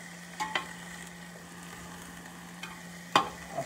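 Zucchini, squash and onions frying on a hibachi grill give a steady low sizzle, with a few brief scraping and stirring clicks from a spatula near the start and end; no one speaks.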